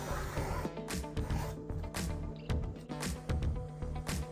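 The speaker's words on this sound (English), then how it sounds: "We use a wooden trim knife to scrape excess clay away from the wheel head." A wooden trim knife scrapes excess clay off a pottery wheel head in repeated short rubbing strokes, close and fairly quiet, with no talking.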